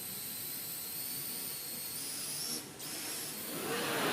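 An autonomous flying drone at a GeneXus keynote: a faint, steady high-pitched whirring hiss of rotors with a brief dip in the middle, heard at a distance with no talk.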